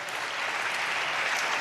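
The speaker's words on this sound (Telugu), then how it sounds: "చప్పట్లు కొడుతూ స్తోత్రాలు చెప్దాం." Congregation at an Easter church service clapping in praise, a steady dense wash of many hands close by, continuous and even throughout with no talk over it.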